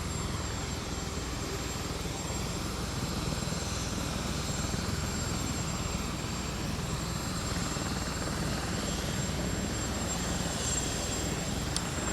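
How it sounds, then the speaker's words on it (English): Marine One helicopter rotors turning on the tarmac at Palm Beach International Airport, a steady loud whirring engine drone with rotor thump holding throughout, without voices. "the rotors are going off on the Marine One helicopters, so they'll be taking off."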